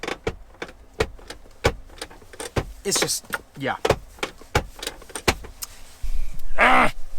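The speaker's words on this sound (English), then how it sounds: "you have to like bring it up and it makes this clicking sound" Sharp plastic clicks from an Audi S4 armrest lid being raised repeat in an uneven series, close and crisp, with a person talking briefly in between.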